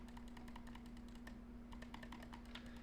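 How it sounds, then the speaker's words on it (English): Rapid clicks from a computer keyboard patter faintly in the background, irregular bursts of keystrokes over a steady low electrical hum. "I'm sorry for the clicking noise in the background."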